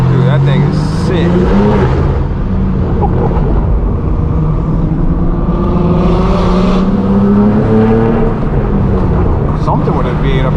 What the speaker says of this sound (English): Something with a V8 up there sounds good.